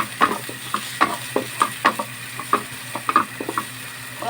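Garlic and onion sauté together in a small amount of oil, with a soft sizzle under frequent scraping and clicking of a utensil stirring in a quick, uneven rhythm. It is close and moderately quiet, with no talking.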